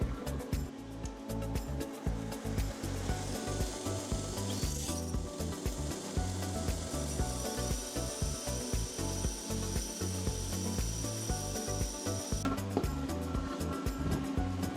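Steady abrasive grinding and whirring of a belt sander running continuously, loud and close, with no talking.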